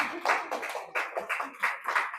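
Audience clapping at a church gathering, a short burst of applause with uneven, overlapping claps rising and falling for about two seconds, moderately loud and fairly close.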